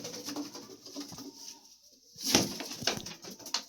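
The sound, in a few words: pigeons cooing in a pigeon house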